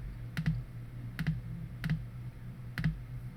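Close computer keyboard keystrokes as a location name is typed into vehicle fuel-log software: four distinct clicks in an even rhythm over a low steady hum.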